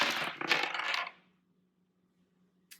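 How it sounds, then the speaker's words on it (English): Astrology dice rolled, a quick clattering burst of tumbling knocks for about a second that then falls silent, ending with one faint click. "Now we're going to roll the Astro Dice for final messages for Libra."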